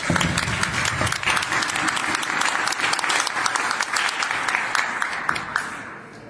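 Audience applause at an evening family history contest in Mezcala de los Romero: dense, steady clapping from a crowd lasting about six seconds, beginning to thin out at the end.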